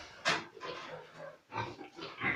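A recently farrowed sow in a pig barn gives several short grunts and snorts in an irregular rhythm, close by and fairly quiet, with brief pauses between.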